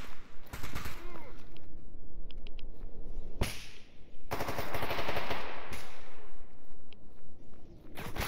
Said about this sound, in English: People are being shot.